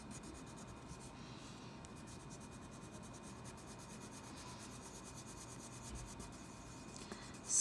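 A Prismacolor colored pencil blends and softens color on paper with a quiet, continuous rubbing and scratching of strokes. It is faint and steady throughout, with a soft thump at the end.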